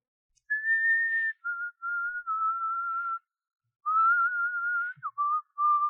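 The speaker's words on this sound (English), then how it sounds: "What's that you're whistling?" A person whistles a melodic tune, the show song "Who Is Sylvia?", in clear sustained phrases with short pauses between them, close and alone with no talking.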